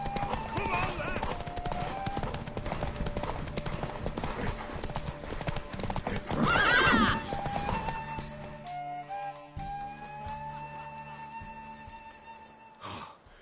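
Horse hooves clip-clopping on the ground in the video game Witcher 3, with a horse's whinny midway, under game music and voices, then fading into sustained musical tones.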